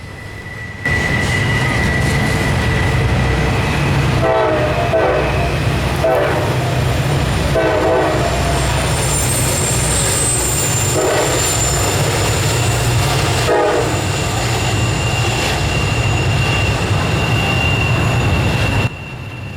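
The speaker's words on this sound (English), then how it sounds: "Soon the end of the empty train came rolling on by, being pushed by NS 6326 and another SD40E." An empty Norfolk Southern freight train rolls steadily past nearby, pushed at the rear by SD40E locomotives including NS 6326, with a continuous loud rumble of wheels and cars, a sustained high squeal, and rhythmic clanks.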